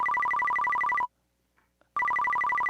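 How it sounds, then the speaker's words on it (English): A cell phone ringtone trills loudly in a fast repeating two-tone electronic pattern, cuts out for about a second of near silence, then resumes ringing. "Who left their cell phone on?"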